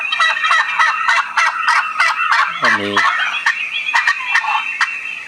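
Rapid, warbling turkey gobbles from a shake-based noisemaker app on a Windows Phone repeat in quick loud bursts throughout. A voice cuts in briefly midway.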